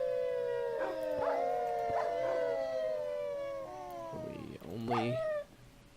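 Wolf-like dogs in Minecraft with the Better Than Wolves mod give several drawn-out, rising and falling howls, loud and close, overlapping one another and then trailing off.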